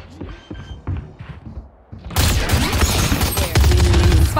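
Grenade blast in Valorant, preceded by quieter game sounds, then a sudden loud, broad burst that stays dense and rumbling to the end, swelling again near the close.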